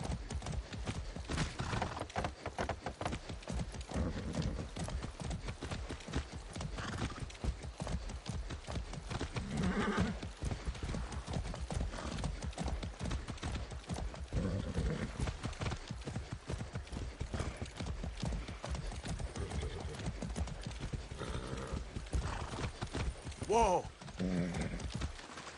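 Horse hooves in the video game Far Cry 6 clip-clop in a steady fast rhythm throughout, with a brief neigh near the end and game noise underneath.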